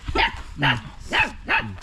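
A dog barks four times in an evenly spaced series, close and clear, with little else around it.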